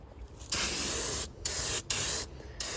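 Spray paint hissing from an aerosol can onto a 1967 Camaro in three long, steady bursts with short pauses between them, close and loud.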